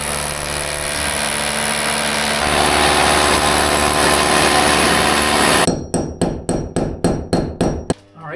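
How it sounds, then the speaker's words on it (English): A power drill boring two holes into a wall, first one long steady whine, then a run of rapid rhythmic hammer-action pulses, loud and close, with no voices. "I'm going to drill 2 holes and fit these onto the wall."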